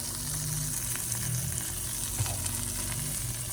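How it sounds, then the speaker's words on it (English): Bacon sizzles in butter in a hot pan, a dense, steady crackle and hiss heard close up with a low background hum throughout. "Put butter in the pan and roast the bacon."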